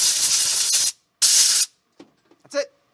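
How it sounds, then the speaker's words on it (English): Two strong bursts of compressed air blast through the hinge of an Andis 5-speed hair clipper, each about half a second, loud and close, followed by a few faint clicks and handling noises. "take my air compressor and blow it out"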